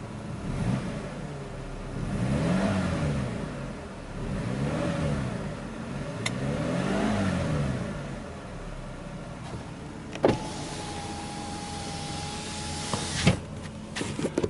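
A BMW 320i E90 LCI from 2010 revs its engine in several slow, swelling pulses, each rising and falling smoothly, followed by a few clicks and a steady electronic tone near the end.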